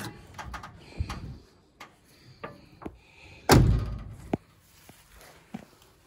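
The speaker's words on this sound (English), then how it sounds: "Doors open and close as they should." Car doors on a 1972 Oldsmobile Cutlass open and close: latch clicks and handling thumps build to one loud solid slam near the middle, followed by lighter knocks and clicks, with no voices.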